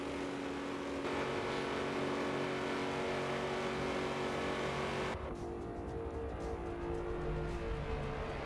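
Stock cars racing at Daytona in an almost strictly stock event, a steady roaring drone of engines at moderate distance, continuous throughout with a shift in tone partway as the pack sound changes.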